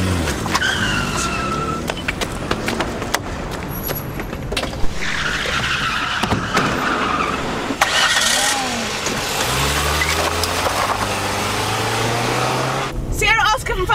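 A car engine starts and revs, then tyres screech and skid as the car pulls away hard on a street during a police stop in a British drama, loud and close, with shouting voices over the start.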